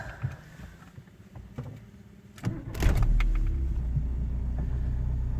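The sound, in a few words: Volkswagen Golf GTI MK2 engine cold start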